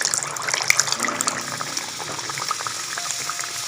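A stuffed pea kachori slides into hot frying oil and sets off a loud, close, steady bubbling sizzle that holds for the whole stretch, with no voices.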